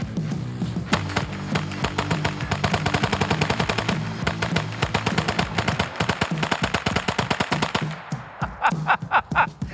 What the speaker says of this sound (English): Now this one you're gonna shoot the whole magazine.